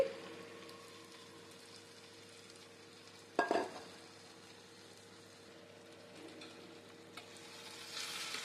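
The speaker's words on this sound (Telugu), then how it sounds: "ఇప్పుడు ఈ టమాటా ముక్కల్లోనే మనము బాగా కడిగి పెట్టుకున్న ఎండు రొయ్యల్ని వేసుకుందామండి" Dried prawns frying with tomato pieces in a pan make a faint, steady sizzle, with one sharp clatter of a utensil midway and a brief louder hiss near the end.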